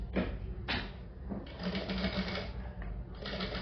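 A sewing machine runs in several close whirring bursts with short pauses as it stitches along a fabric hem folded a quarter inch, with no voices over it.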